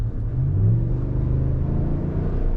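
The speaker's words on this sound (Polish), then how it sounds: "obroty fajnie wchodzi, to jednak jest 5-7 litra" RAM 1500 pickup with a 5.7-litre engine revving while driving, a deep close rumble rising in pitch as revs climb, then settling into a steady drone.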